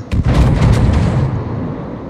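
Requested artillery fire lands on a target in a naval battle video game, a loud, close boom with a quick burst of sharp blasts, then a rumbling decay that trails off over about two seconds, with no voices.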